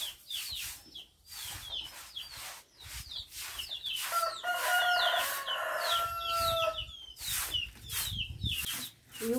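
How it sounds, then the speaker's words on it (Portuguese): A rooster crows repeatedly nearby on a farm, with hens clucking around it and some rustling in the background. "E o galo aí, ó, cantando"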